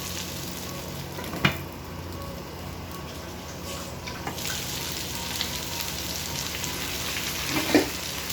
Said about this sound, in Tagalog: bango na guys ng aking niluluto dahil sa bawang. Totostado lang natin itong bahagya.